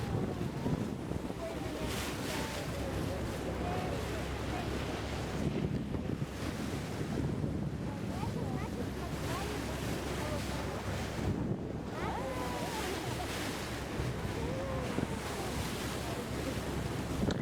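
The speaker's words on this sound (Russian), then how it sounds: "мы на яхте поплыли по Средиземному морю" Steady rush of Mediterranean Sea waves and gusting wind noise buffeting the microphone aboard a sailing yacht off the Turkish coast, continuous and fairly loud throughout.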